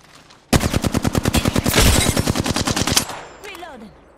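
Rapid automatic gunfire from a video game, a loud sustained burst of evenly spaced shots lasting a few seconds, then a short tail of fainter effects with a voice-like sweep.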